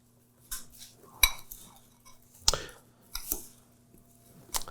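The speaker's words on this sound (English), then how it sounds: "I'm going to give this a mix." Spoon scraping and clinking in a dish while scallop gratin sauce is stirred, a handful of separate clinks and soft squishy scrapes at close range with quiet gaps between them.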